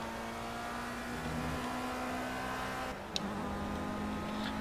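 Race car engine in the Project CARS video game, a steady droning hum under way with a short dip near the end, heard alone without talk.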